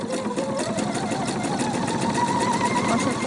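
A sewing machine runs steadily, stitching a narrow zigzag over the edge of fabric for baby bloomers. It gives a fast, even mechanical whir at moderate volume, with no talking.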